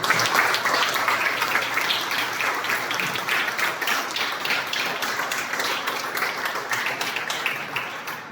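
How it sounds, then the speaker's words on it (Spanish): An audience at an award ceremony gives a big round of applause, dense clapping from many hands that starts strong and holds steady, easing slightly toward the end. "el reconocimiento más valioso para todas y para todos ustedes es un aplauso muy grande"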